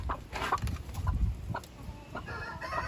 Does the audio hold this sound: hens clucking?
yes